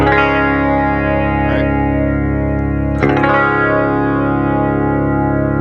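A single loud, heavily effected electric guitar chord sustains throughout, thick with distortion and chorus, with a couple of faint string scrapes.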